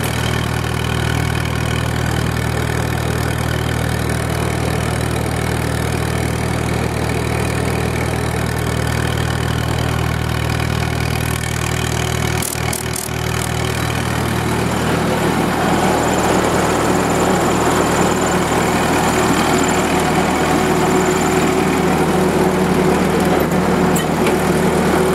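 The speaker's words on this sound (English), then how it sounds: "It really is a very quiet generator." A small WWII anti-aircraft gun generator engine runs steadily at idle, a continuous low-pitched hum with a constant tone throughout and no one speaking.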